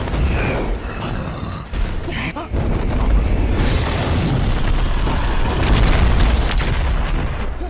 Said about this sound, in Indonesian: sebuah ledakan energi muncul dari dalam reruntuhan kuil